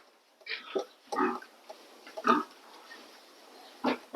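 Piglets grunt in short, snuffling bursts, four or five separate grunts scattered over a few seconds, fairly close, with quiet gaps between them.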